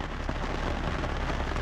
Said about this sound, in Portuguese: E a chuva veio mesmo. Veio do nada.